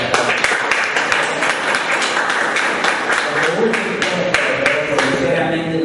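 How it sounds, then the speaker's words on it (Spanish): Audience applauding at a Peruvian national holiday bonus event, dense steady clapping across the whole stretch, moderately loud and close, with some murmured voices mixed in. "Jóvenes, un fuerte aplauso."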